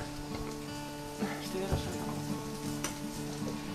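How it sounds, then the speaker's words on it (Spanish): Sausages and spaghetti sizzle and fry steadily in a home kitchen, a continuous crackling bed with a few louder pops, while people talk nearby over it. "estamos cocinando salchichas y espaguetis"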